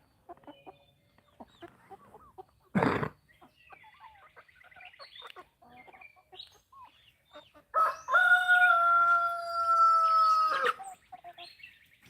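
Brahma roosters in a farm coop cluck softly and irregularly, with one sharp loud squawk, then a single long, full-throated crow rings out close by near the end.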